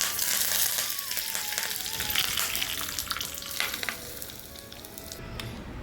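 Curry leaves and urad dal crackle and sizzle briskly in hot oil, a dense close frying hiss with sharp pops that settles slightly toward the end, no voices.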